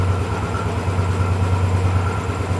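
A Royal Enfield 500 Bullet EFI motorcycle with an air-cooled engine idles close by, a steady low thumping beat that pulses evenly throughout with no talking.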